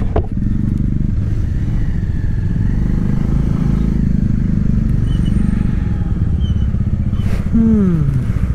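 A motorcycle rides along a mountain road in Himachal from Manali toward Solang, its engine droning loudly and steadily throughout, close up, with wind and road clatter and a brief rising whine near the end.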